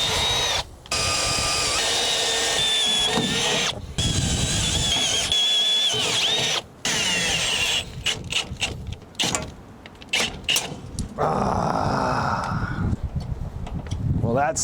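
Power drill boring through metal under a 2000 Toyota Tundra during an airbag suspension install, loud grinding whine in long bursts with short pauses, a ratcheting, creaking tail near the end, and voices talking over it.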